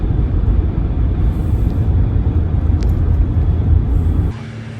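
A car drives on the way to an RC race track, with a steady low road and engine rumble heard from inside the cabin, dropping abruptly to a quieter hum near the end.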